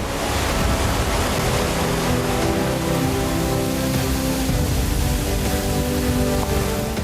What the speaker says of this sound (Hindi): जल की सैकड़ों धाराएं एक विशाल अजगर की तरह लहराते हुए नीचे गिर रही थीं।